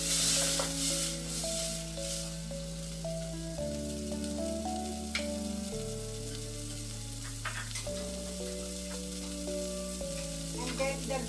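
Pork curry sizzling steadily in the pan after pineapple juice is added, a continuous soft crackle under a layer of sustained background music.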